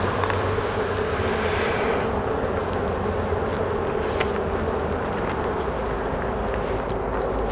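Honeybee drones pour out of a Layens hive colony during an inspection, a dense, continuous close buzzing drone that hums steadily throughout.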